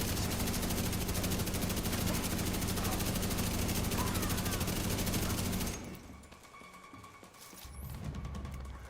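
Sustained rapid gunfire in a video game sprays continuously for several seconds, dense and loud with a steady mechanical buzz, then cuts off abruptly into quieter ambient noise and scattered small sounds.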